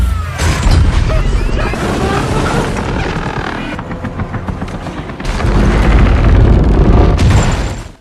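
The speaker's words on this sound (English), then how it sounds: "tried to help Sully by shooting cannons at Joe's ship." Cannons booming at a ship during a pirate battle, a dense run of loud blasts and crashes for about five seconds, a brief lull, then another heavy volley with rumbling impacts and scattered voices in the mix.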